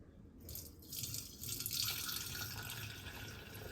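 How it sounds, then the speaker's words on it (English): Rosemary-infused water is poured from a container into the center of a mason jar, producing a soft, steady splashing stream that builds and runs continuously, close and quiet with no talking. "start trying to pour this without wasting too much into the center right here of the mason jar"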